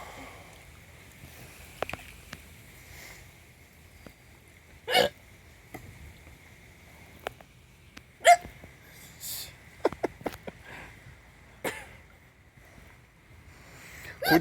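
Hiccups in a swimming pool, sharp isolated bursts recurring at irregular intervals over a quiet background, some splashy and close.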